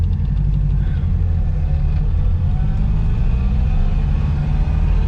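A Morris Oxford car drives along with its engine running, a steady loud low rumble with road noise that continues unbroken throughout.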